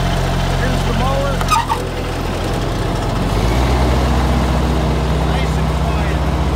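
Grasshopper 72-inch commercial mower with a 30 hp Kubota engine, a steady low engine hum and idle with a shift in pitch partway through, running under someone talking.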